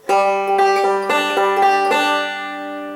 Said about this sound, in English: I call that the forward-backward roll